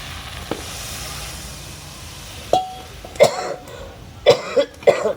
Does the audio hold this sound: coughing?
yes